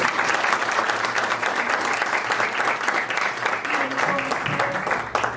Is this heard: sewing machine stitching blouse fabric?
no